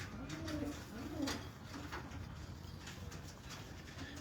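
Pigeons at Ustad Rashid's loft in Bahawalpur coo softly amid a dense, rustling background, with a few low rolling coos rising and falling in the first half-second and around one second in.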